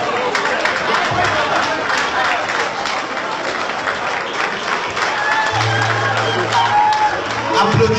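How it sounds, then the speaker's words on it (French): Dense concert audience applause at a live show in Montréal, steady and loud for several seconds with scattered whoops and crowd voices, plus a low hum partway through. "Applaudissez plus fort, s'il vous plaît"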